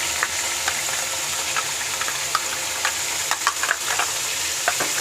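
Chicken pieces fry in a karahi, browning with a steady, dense sizzle from start to finish, broken by occasional sharp crackles and pops from the hot oil.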